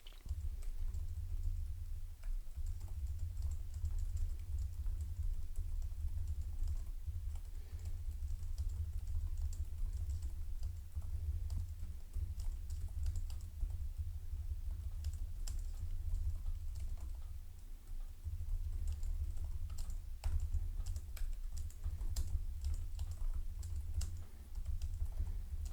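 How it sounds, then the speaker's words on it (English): Steady, fairly quiet typing on a Lenovo Yoga Slim 7i 14-inch laptop keyboard, a continuous patter of soft close key clicks over a low background hum throughout. "This is a test of how the keyboard sounds when typing on it."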